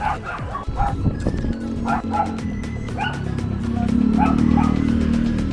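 A dog barks repeatedly in short bursts, fairly close, over an engine rumble that grows louder toward the end.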